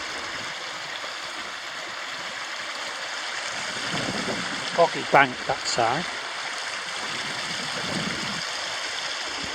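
River stream flowing by a boggy bank, a steady broad rush of water throughout while someone talks briefly in the middle.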